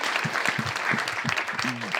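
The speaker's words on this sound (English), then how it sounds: "Give her a big round of applause, ladies and gentlemen." Audience applause at a live election Q&A podcast event, a steady wash of clapping from a crowd that holds evenly for about two seconds, with a voice briefly heard over it near the end.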